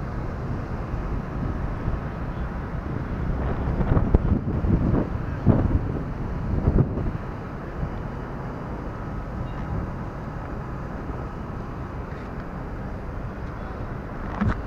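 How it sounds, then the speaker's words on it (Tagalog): Strong wind at the edge of the old Intramuros city wall buffets the microphone in a steady rumble with louder gusts. "Mahangin siya, masarap din sa pakiramdam, nakaka-relax."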